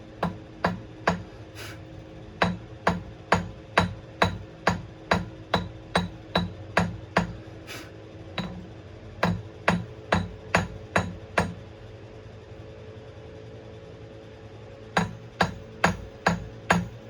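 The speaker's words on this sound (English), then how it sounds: "we got a hammer. We got these hammers." Hammers knocking debris off gold refining filters, a rapid run of sharp metallic strikes in steady rhythm, then a pause of a few seconds before another quick burst, loud and close.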